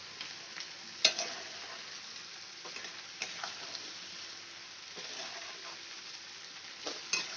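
Chicken being stirred with cashew paste in a pan for methi chicken, a steady sizzle with scraping strokes and a few sharp clinks of the utensil, close and moderately loud, with no voices.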